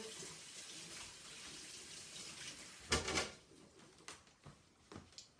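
Hot water runs from a kitchen tap while a chiffon cake with Italian buttercream is being smoothed, starting as a faint background hiss and then breaking into louder splashing bursts close by.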